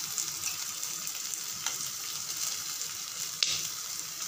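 Chili sauce sizzles steadily in a frying pan as it is stirred, a continuous soft crackle with occasional scraping taps, heard alone.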